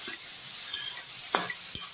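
Beetroot sautéing with salt in a pan gives a steady sizzle, with a few close scrapes and clinks as a spoon stirs it.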